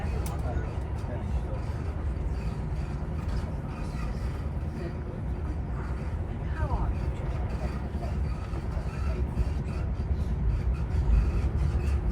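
The Midland Pullman train runs along the line near Ashley Down with a steady low rumble and faint rhythmic wheel clatter, heard from onboard.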